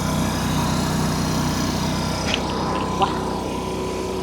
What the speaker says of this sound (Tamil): அந்த ஜென்ரேட்டர் தான் இப்போ ஆப்ரேட்டிங்கில் இருக்குது.